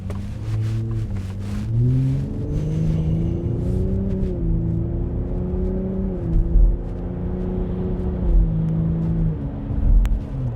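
A 2025 Ford F-150 Raptor exhaust hums steadily under moderate acceleration up to around 3,500 rpm, with pitch stepping up and dropping back through gear changes, heard from inside the truck without talk.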